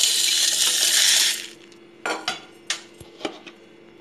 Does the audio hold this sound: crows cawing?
no